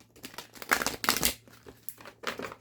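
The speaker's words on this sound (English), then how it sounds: "the manifest card just came out, but I'm still shuffling" Tarot cards shuffled by hand in a few quick bursts of crisp riffling and papery flutter, close and fairly quiet, with short pauses between bursts and no talking.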